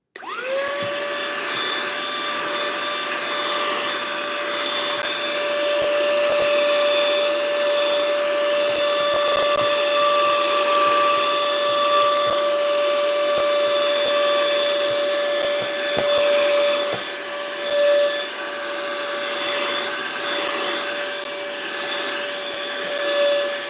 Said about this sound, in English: I gotta run the cleaner